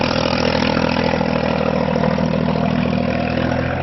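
A John Deere 5045D tractor pulling a three-disc 26-inch plow through sandy soil runs with a steady, loud, even diesel drone that holds without any break.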